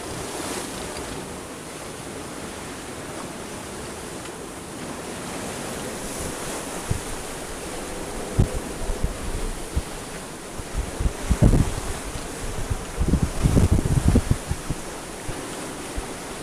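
Rough open sea off Corsica rushes past a sailing boat making about six knots, with steady wind buffeting the microphone and heavier splashes of waves breaking near the hull toward the end.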